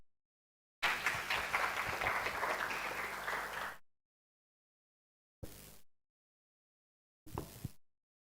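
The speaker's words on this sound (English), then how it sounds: "Let us give her a round of applause." Audience at a primary school storytelling contest applauds a participant with a steady burst of clapping lasting about three seconds, followed by two brief separate snippets of clapping.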